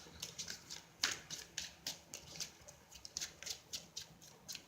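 A deck of tarot cards is shuffled quietly, producing a faint series of soft, rhythmic papery taps and riffles in quick succession at close range.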